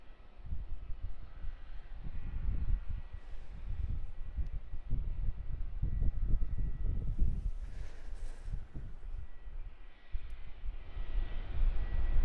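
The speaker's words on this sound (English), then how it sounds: "737-800 there of Qantas Airways." Qantas Airways Boeing 737-800 at Melbourne Airport, a continuous low jet engine rumble with wind noise outdoors, steady and fairly loud, no talk.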